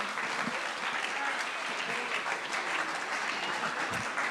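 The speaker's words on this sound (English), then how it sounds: "I'm going to bring the band back out here, so give them a round of applause." A live audience gives a round of applause for a band at a Funding the Future event, steady dense clapping filling the room throughout, with no voices over it.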